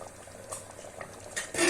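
Water bubbles in mutton curry gravy inside a pressure cooker, a soft close simmer with light pops and a brief louder clink of a utensil at the end.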